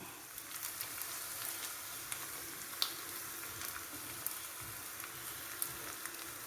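Garlic, ginger and curry leaves, added after fenugreek seeds for a papaya pickle, fry in oil with a soft, even sizzle dotted by small crackles and pops. The sound stays faint and continuous throughout.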